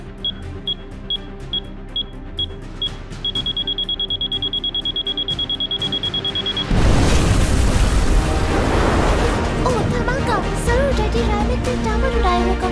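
A tower blown up in a video game: rapid electronic beeping builds to a steady tone, then a loud, sudden explosion erupts and its roaring, crackling debris rumbles on for several seconds.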